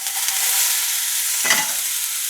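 Oil hisses steadily in a steel pan, then a sudden louder sizzle bursts up as onion drops in and keeps frying, with no talking over it.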